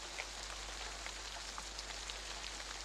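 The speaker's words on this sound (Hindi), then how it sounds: "सुलोचना, अरे अरे भीग जाओगी" Rain falls steadily outdoors with a soft, even patter and scattered nearby drops, continuous and fairly faint, with no voices.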